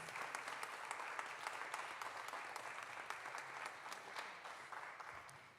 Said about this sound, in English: Let's give another big round of applause to our keynote speaker